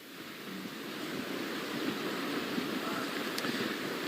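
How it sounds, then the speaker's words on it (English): Strong wind from Tropical Storm Beryl in Fort Bend County, a broad roaring rush with rain spatter that builds gradually and stays constant, buffeting close to the microphone. "seeing and feeling the wind pick up here and splash the rain here"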